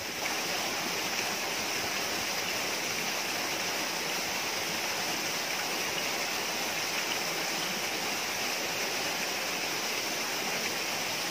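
A rocky mountain stream in deep forest rushes and gurgles without pause, a loud, close, broadband wash of flowing water with no voices.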